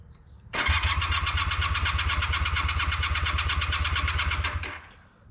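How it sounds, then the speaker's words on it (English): An old motorcycle engine cranks over with the throttle open during a compression test, a fast, even chugging that starts abruptly, holds steady for about four seconds, then stops. "I'm gonna go ahead and open the throttle, give it a few revolutions, and show you the difference in PSI."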